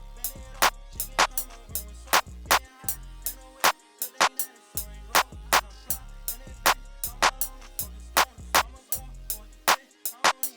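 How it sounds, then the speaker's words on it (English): A sharp clap sample in a remade trap beat, crisp hits striking in a regular pattern over booming bass and melodic backing, prominent and close. "Next up is the clap, which sounds like this."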